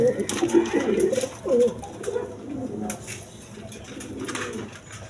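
Pigeons coo repeatedly at a pigeon farm, the low throaty calls close and layered over one another, with faint background chatter and rustling.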